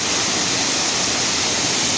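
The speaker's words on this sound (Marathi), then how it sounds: "हा बघा आमचा वजर धबधबा." The Vajra waterfall roars steadily and loudly, a dense unbroken rush of falling water with no other sounds.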